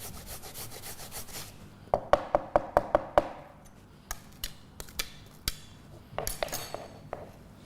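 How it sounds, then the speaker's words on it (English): Fresh ginger rubbed on a coarse grater, a close run of sharp rasping strokes in quick rhythmic bursts, about six fast scrapes, then a looser, more spaced series of strokes. "what we actually also want to achieve is the juice that kind of comes out with the ginger as you grate it"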